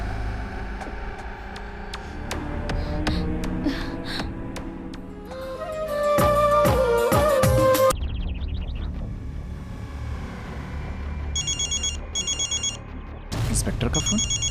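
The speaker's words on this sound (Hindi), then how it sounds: "इंस्पेक्टर का फोन।" A telephone rings in a Hindi film scene, its electronic ring pattern repeating in bursts over background music and ambient sound, with someone speaking in the clip.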